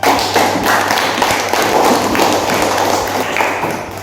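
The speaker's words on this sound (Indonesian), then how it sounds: "tepuk tangan untuk semua kelompok" A classroom group applauds, with dense overlapping claps held steady for several seconds at close range.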